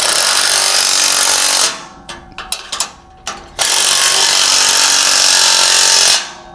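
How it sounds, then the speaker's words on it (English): A loud power impact tool rattles close up while tightening the coupler on a Malone MegaSport Overland Angler tent trailer, two long continuous bursts separated by a few sharp short blips. "I'll tighten this coupler right on."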